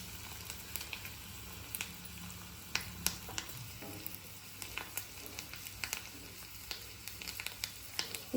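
Curry leaves frying in hot oil, giving a soft continuous crackle with frequent sharp pops and spits, close but quiet, with no voices.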